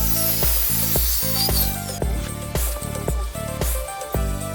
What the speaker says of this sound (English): then I adjust my miter saw to 15 degrees, and placing the stopper vertically